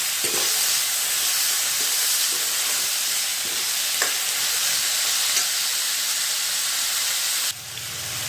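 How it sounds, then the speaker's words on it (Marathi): Garlic with bay leaf, cinnamon, cloves and peppercorns sautéing in a black kadhai, a loud close hiss and sizzle with light stirring clicks that cuts off sharply near the end. "आता यामध्ये तेजपत्ता दालचिनी आणि हे लवंग मिरी खडे मसाले टाकलेले आहे ते पण आपल्याला छान असं मस्त परतून घ्यायचं"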